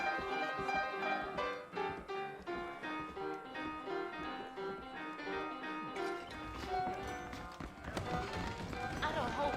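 Horses' hooves clip-clop in the Red Dead Redemption video game, a steady rhythm of hoofbeats running beneath characters talking and a background score.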